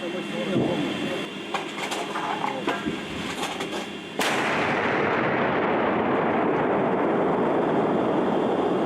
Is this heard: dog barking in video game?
no